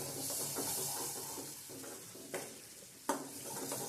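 Tomatoes frying in a pan of chutney for Gujarati sev tameta shak, a steady soft sizzle with stirring scrapes and a couple of spoon knocks against the pan, fairly quiet and without talk.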